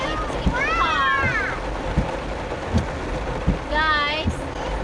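Heavy rain hisses steadily against a car parked at a drive-thru, a constant broad wash with soft knocks scattered through it. A voice speaks over the rain twice.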